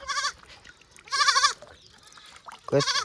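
Goats bleat three times close by, each call a short, quavering cry separated by quiet pauses.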